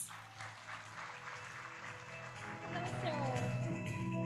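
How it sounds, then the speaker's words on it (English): Applause from a forum audience swells into a steady clatter of many clapping hands, rising louder near the end, with speech and some tonal sound mixed underneath. "Ladies and gentlemen, please give a warm round of applause to Mr. Ronaldo R. Elipanio"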